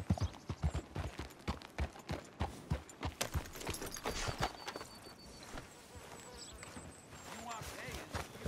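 Horse hooves clip-clopping in Red Dead Redemption 2, a fast, even run of close hoof beats that thins out partway through, leaving a softer ambient bed with faint insect-like buzzing.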